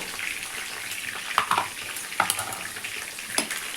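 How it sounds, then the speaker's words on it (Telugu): Rasam, a thin spiced tamarind soup seasoned with rasam powder, bubbling gently in a pot, a quiet steady simmer with faint pops and a few light clinks, no voices. "సో అలా మరుగుతూ ఉంటుందండి"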